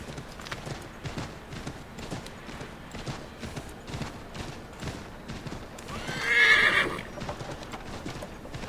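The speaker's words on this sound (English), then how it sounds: "o cavalo corre pouquinho também" A horse in the game Assassin's Creed III gallops with a steady clip-clop of hooves, then lets out a loud, close whinny partway through.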